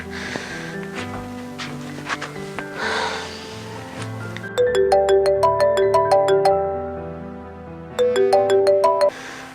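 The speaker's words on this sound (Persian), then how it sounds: "جون اینقدر تلفنتون بند." A phone ringtone plays a repeating melodic chime in two bursts, loud and close, with breathy snorts and rustling before it starts.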